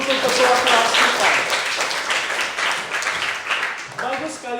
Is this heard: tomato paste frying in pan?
no